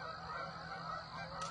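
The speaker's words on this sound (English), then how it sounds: "And the geese are coming off all the pond." A flock of geese honking as they lift off a pond beside a soybean field at harvest, a dense chorus of overlapping calls heard from a distance.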